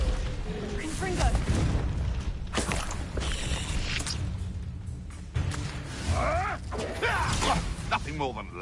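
Casting the Confringo fire spell in Hogwarts Legacy, bursting booms and whooshing blasts amid a busy combat soundscape, with voices shouting during the fight.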